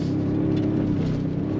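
The engine of a 2023 Toyota Sequoia TRD Pro full-size SUV is worked hard on throttle, a steady loud low drone heard close.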